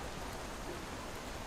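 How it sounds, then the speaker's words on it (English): Rain falling everywhere in the video game Lies of P, a dense, even hiss of steady rainfall with no distinct drops standing out and no talk. "It's raining all over the place"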